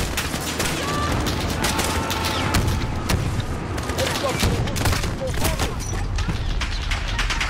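Dense, continuous gunfire and bursts of automatic weapons crackle through a realistic-difficulty Call of Duty: Modern Warfare 2019 battle, loud and relentless with booms mixed in, while a voice talks over the chaos.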